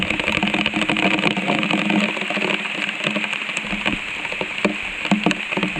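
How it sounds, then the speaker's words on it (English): Steady rain pours down around a bike before a 24-hour endurance event, a dense continuous hiss with a low engine-like rumble underneath, fairly close and even throughout. "some proper rain coming down now"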